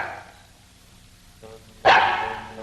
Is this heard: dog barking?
yes